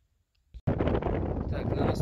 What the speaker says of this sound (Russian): ветер поднялся, слышно